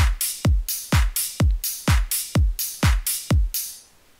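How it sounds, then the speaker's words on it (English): A hi-hat top loop for a future house drop in FL Studio, with crisp hat hits shifting from a high hat to a lower one in a steady four-on-the-floor rhythm, each hit paired with a punchy low thump, loud and close with no talk. "It goes from like a pretty high hat to a low hat."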